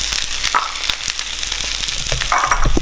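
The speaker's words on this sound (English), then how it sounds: "We're gonna take the skin off by chargrill it on the griddle." Red pepper crackling and popping in olive oil on a hot griddle, a close, busy sizzle with scattered sharp spits and no voices.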